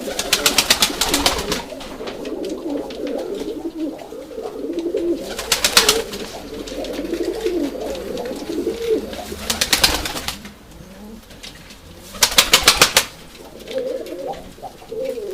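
Urfa Arab pigeons coo in low, rolling murmurs close by, broken by four sharp bursts of flapping wings spaced several seconds apart.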